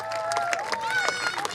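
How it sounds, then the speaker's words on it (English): Crowd cheering for a police dog at a Kent police dog show: a brief burst of whoops and excited shouts from many people, close and lively. "Big cheer for Vinny."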